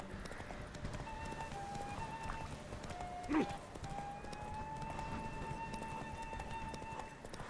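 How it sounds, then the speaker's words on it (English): A horse's hooves clip-clop at a steady run in The Witcher 3: Wild Hunt, a rhythmic beat under whistling game tones and other sound effects. "Why am I riding a shitty horse?"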